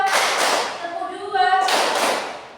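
Students do a clap-count warm-up in a classroom, with two bursts of sharp group clapping close by. A voice speaks between the bursts.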